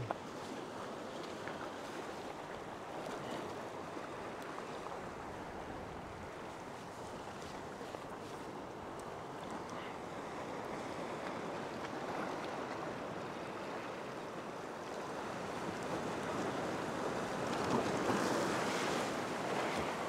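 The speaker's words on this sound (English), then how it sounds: "when the slightly bigger waves come in, it does create a bit of foam and wash" Sea waves breaking and washing up a beach where fishing is under way, a continuous broadband roar with rolling swells and some wind buffeting the microphone, swelling louder toward the end.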